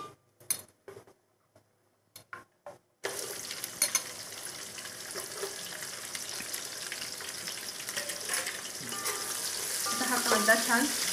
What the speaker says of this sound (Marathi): कांदा छान मऊ होईपर्यंत परतून घ्यायचा.